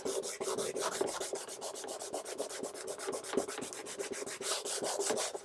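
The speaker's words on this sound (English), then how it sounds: "Now I'm going to hit the whole thing first with some 120 sandpaper." Sandpaper of 120 grit scuffs through lacquer on a cafe racer build, making a steady, close, rhythmic rasp of quick back-and-forth strokes with no talking.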